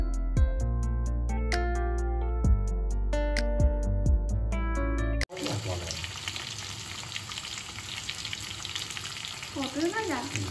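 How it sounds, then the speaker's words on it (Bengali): Eggplant, pointed gourd and spiny gourd slices sizzle steadily in hot oil. A stretch of musical tones comes first, then the frying sounds carry on close and even, with faint voices in the background. "বেগুন, পটল, কাঁকরোল ভাজা"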